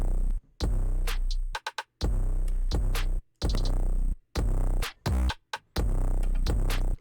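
Several loud, deep 808 bass hits with harsh, gritty bit-crushed, downsampled and Effectrix-distorted tails play in a trap beat, separated by brief silent gaps, with crisp hi-hat-like transients over the booming low end.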